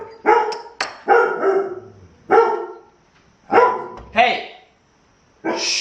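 Pet dog Cooper barks in several sharp bursts spread across the moment, close by and loud, mixed with a person speaking in a workshop setting.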